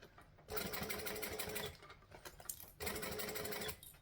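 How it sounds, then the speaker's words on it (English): A sewing machine stitches the seam of a circle bag in two close, loud bursts of fast, even whirring, with a brief back-stitch slowdown between them and no speech. "So I'm going to put my needle down, stitch, back stitch."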